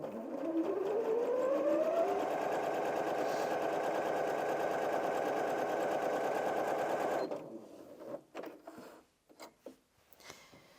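A Janome M50 QDC sewing machine runs a straight stitch in one steady, fast whirring burst lasting about seven seconds, then stops, followed by a few scattered clicks and handling knocks.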